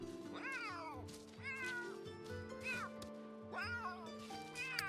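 Cats in The Sims 3 meow repeatedly, about five rising-and-falling calls spaced across the stretch, clear and fairly close, with faint game ambience beneath.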